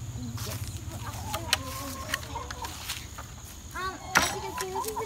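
Chickens clucking inside a backyard coop, several birds giving short close clucks and squawks against a steady hum and faint insect chirps, with a few quiet footsteps.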